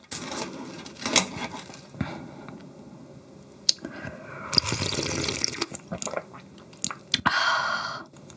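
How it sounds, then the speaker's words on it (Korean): Close-up sipping and slurping of icy broth from Korean mul-naengmyeon cold noodles, served alongside sweet pork galbi, with several wet gulps and squishy mouth sounds in bursts, no talking. "국물부터 먹어볼게요."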